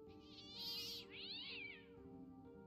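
A cat in the video game Fran Bow gives two drawn-out, rising and falling meows in quick succession, clear and fairly close against a quiet, faintly humming background.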